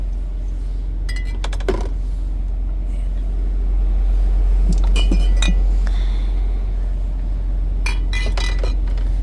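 Food containers clink and knock against each other as they are loaded into a mini fridge, a few short bright clatters in bursts over a steady low hum, fairly close.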